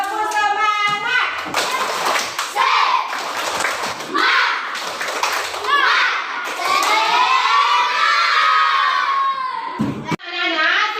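A classroom of schoolchildren performs the tepuk semangat clapping chant, shouting in unison with bursts of rhythmic hand claps and thumps, loud and lively with brief pauses between phrases.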